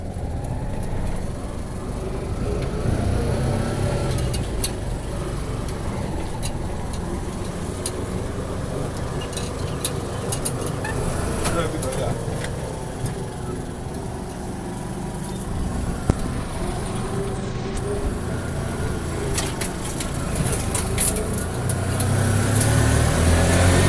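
A Keke Napep auto-rickshaw is driven steadily, its engine giving a continuous rumbling drone with road noise and occasional rattles throughout.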